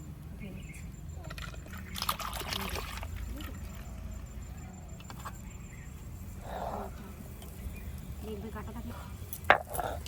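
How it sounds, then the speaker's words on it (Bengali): Green chilies being ground by hand for a fish curry give a steady, low scraping and rubbing sound that continues throughout, with occasional sharper knocks, while a person talks. "কাঁচা লঙ্কা বেটে দেবো"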